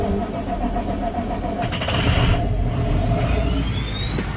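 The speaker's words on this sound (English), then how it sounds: "Then you start the truck." A big manual stick-shift truck's engine cranks and catches, settling into a loud, steady, close rumble with a brief surge partway through.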